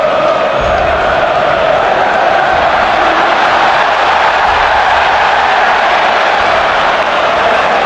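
Football stadium crowd roaring loudly and continuously as Lamine Yamal dribbles past a defender, a dense sustained wall of cheering that stays steady throughout without a break.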